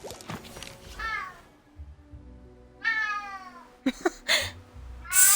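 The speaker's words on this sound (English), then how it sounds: "Suki. That's my cat." Suki, a house cat, meows several times in a quiet room: drawn-out, wavering cries spaced a couple of seconds apart, followed by a few sharp knocks and a final louder yowl.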